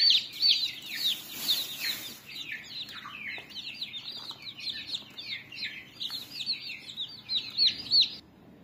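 Chicks chirping inside a rural chicken coop, with a steady stream of high, overlapping peeps that stay close and moderately loud throughout.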